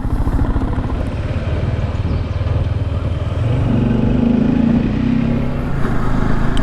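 Bajaj Dominar 400 motorcycle cruising on the road after a suspension upgrade, a steady loud engine drone with wind and road rumble that rises slightly in pitch midway.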